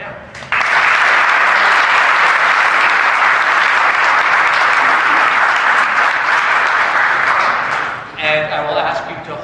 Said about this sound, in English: You may applaud both of our debaters right now.